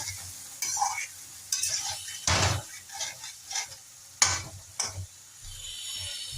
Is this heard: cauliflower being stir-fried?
yes